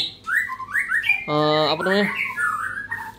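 A long-tailed white-rumped shama (murai batu) sings nearby in a rapid string of varied whistles and harsh, buzzy squawking phrases, loud and clear with no talking.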